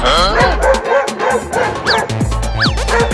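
A cartoon dog barks in quick yapping bursts, loud and close, in a Hindi comedy cartoon, with a few whimpering yips between the barks.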